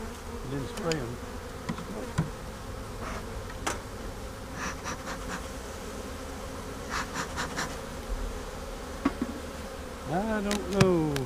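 Steady droning buzz of many honey bees in an open long hive, close and continuous, with brief louder passes of individual bees and faint background voices.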